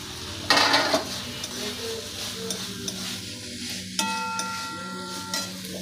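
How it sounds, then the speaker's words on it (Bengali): Fried beetroot, carrot and potato tipped into masala in a pan for soybean mince, an opening clatter followed by sizzling and the scrape of stirring, with a couple of metallic knocks. "এরপর দিয়ে দিচ্ছি ভেজে রাখা বিট গাজর আর আলু"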